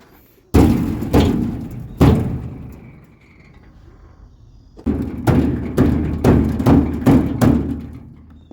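Old furniture caked with decades of dirt is struck to knock it loose: two or three heavy, close thumps, a pause, then a quicker run of about six solid knocks.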